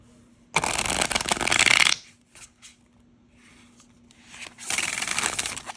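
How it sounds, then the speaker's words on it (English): A thick, stiff oracle card deck is shuffled in two bursts of rapid riffling, close and crisp, separated by a quiet pause with a few soft taps. "I'll show you how this shuffles."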